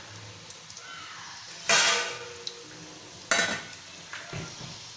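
Badam poori fry in hot oil over low heat with a soft, steady sizzle, broken by two louder bursts of bubbling as pieces go into the pan, along with faint clinks of utensils.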